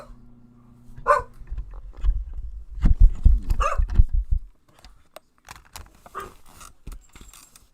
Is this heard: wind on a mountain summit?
no